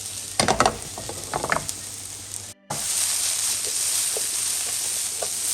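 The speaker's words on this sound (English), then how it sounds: "now we're going to cook this mushroom in the oil of the lardon" Mushrooms fry in oil rendered from bacon lardons: a few sharp utensil clatters at first, then a steady, close sizzling hiss after a brief cut.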